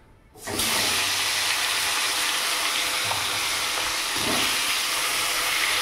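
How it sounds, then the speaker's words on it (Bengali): Raw green banana pieces sizzle loudly in hot oil in a kadai, a dense, steady frying hiss that starts abruptly and runs unbroken to the end. "কাঁচকলাগুলো একটু হালকা লাল লাল করে ভেজে নেব।"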